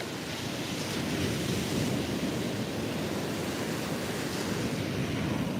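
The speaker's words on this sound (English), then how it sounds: "let's see if the wind is bothersome in this direction" Steady, loud wind buffets the microphone on an outdoor walk, a dense continuous roar with no gaps and no voices.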